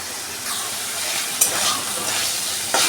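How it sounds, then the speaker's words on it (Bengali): Chicken mince fries in a pan over medium heat with a steady, dense sizzle, broken by a few sharp scrapes and clinks of stirring. It is close and fairly loud, and no one talks. "তাই জন্য আমি মাঝারি আছে ভেজে নিচ্ছি।"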